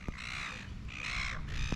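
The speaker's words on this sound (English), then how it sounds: "a lot of birds on that side" Birds calling at Little Beach, where many pelicans gather: a steady run of harsh, raspy calls coming in repeated bursts over a constant background hum, with no voices.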